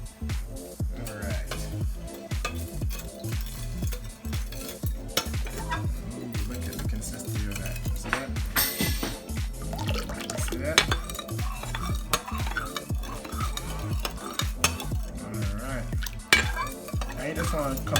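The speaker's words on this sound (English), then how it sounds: "You want to stir it until the sugar evaporates or dissolves into it." A spoon stirring sugar into homemade Jamaican sorrel drink in a pot or container, with continuous scraping and clinking strokes in a busy, close rhythm, loud and near throughout.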